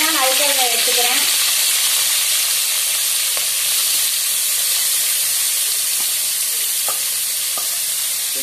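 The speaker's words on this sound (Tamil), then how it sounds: "இதை வந்து நல்லா ப்ரௌன் கலர் வர வரைக்கும் நல்லா வந்து வதக்கிக்கணும்" Large onions sizzle steadily in hot oil, sautéed until brown for chicken biryani, a bright continuous frying hiss, with a few stirring clicks and scrapes near the start.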